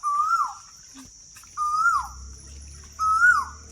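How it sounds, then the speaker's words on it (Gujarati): An Asian koel calls three times at regular intervals, each a rising, clear whistled note, over a faint steady insect drone. "મસ્ત મજાની કોયલ બોલે છે"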